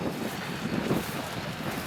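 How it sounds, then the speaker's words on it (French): Wind buffets a microphone outdoors at a rally campsite with tents and caravans, a steady low rumbling roar that fills the whole stretch with no voice heard. "il y a du vent donc vous allez peut-être avoir du mal à m'entendre"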